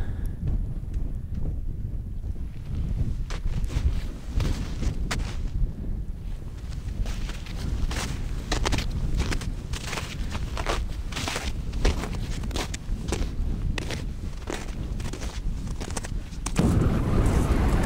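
Biting wind on a snowy Scottish Munro in winter buffets the microphone with loud, continuous low rumbling gusts, and footsteps crunch underneath.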